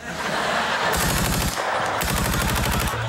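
Loud, rapid bursts of automatic gunfire on a late-night talk show set, two sustained rattling volleys over a constant noisy background.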